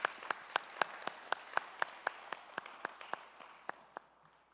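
Clapping from a church congregation comes through as slow, evenly spaced sharp claps, about seventeen in a row, quiet and somewhat distant, thinning out toward the end.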